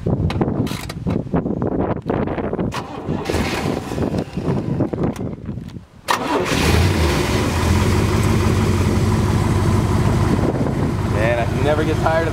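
Voices talk briefly before a 1966 Corvette 427 V8 with side pipes cranks and fires. It settles into a loud, close, steady rumbling idle that continues to the end.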